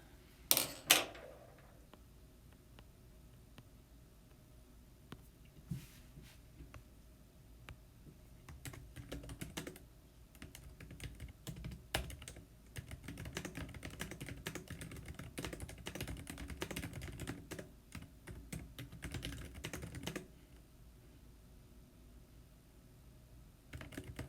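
Computer keyboard typing, a quiet run of irregular key clicks with bursts and pauses, close and steady for most of the stretch, no one talking.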